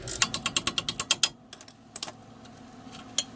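Quick run of about a dozen sharp metallic ticks, like a ratchet or light tapping, on a seized ball joint being turned out of a Hyundai Sonata control arm, then a few scattered clicks; close and clear, no talk.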